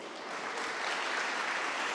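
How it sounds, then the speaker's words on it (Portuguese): Congregation at a Brazilian evangelical church service applauding, a dense, steady wash of clapping that swells slightly and holds at moderate loudness throughout, with no voices standing out. "aplaude o Senhor então."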